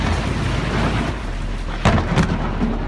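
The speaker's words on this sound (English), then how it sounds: "Overnight, intense lightning brightening dark skies across the country" Thunder during severe storms rolls as a loud, continuous rumble with rain noise underneath, punctuated by two sharper cracks late on, no voices.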